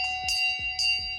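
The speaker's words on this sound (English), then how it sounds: "The loudest bell ever." A small thrifted school bell used as shelf decor rings loudly and close up, two bright metallic clangs with sustained ringing overtones, struck about half a second apart and alone.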